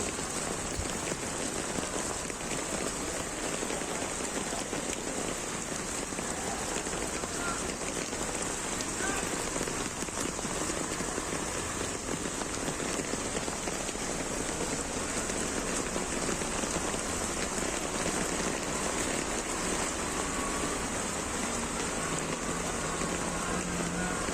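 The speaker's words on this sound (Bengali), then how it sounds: "মুম্বাইতে প্রচণ্ড বৃষ্টি হচ্ছে প্রচুর পরিমাণে" Heavy monsoon rain pours down in Mumbai, a dense, steady hiss of drops on surfaces and standing water running unbroken throughout.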